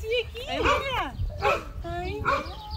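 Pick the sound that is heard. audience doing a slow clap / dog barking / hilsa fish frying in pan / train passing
dog barking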